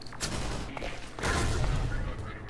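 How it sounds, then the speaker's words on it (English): Gunfire from shooting out mines in Half-Life 2 Episode One, a couple of sharp reports followed by a heavier rumbling boom, loud and close, with no voices. "they're shooting out the mines"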